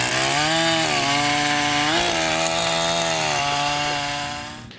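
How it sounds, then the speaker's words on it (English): A chainsaw runs steadily and loudly close up, its engine pitch dipping and rising briefly before fading slightly at the end. "Ooh, a woman with a chainsaw."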